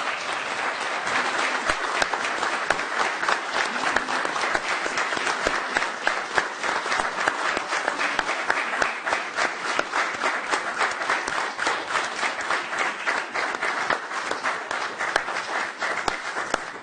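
Sustained applause fills a public meeting, dense and steady from start to finish, many hands clapping at once with no break or voices standing out.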